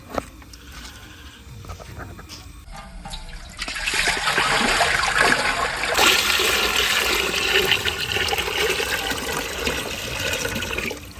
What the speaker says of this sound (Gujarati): અને તેમાં પાણી પણ વેળી દઈશું.